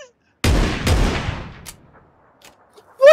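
A sharp burst of PUBG gunfire cracks out, two close shots in quick succession with a decaying echo, followed by quiet ticks and a brief high blip near the end.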